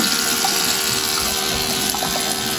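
Water runs steadily from a tap in a continuous, loud, close splashing rush, with no voices.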